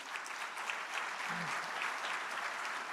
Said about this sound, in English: give a round of applause for our state senator, Sharif Street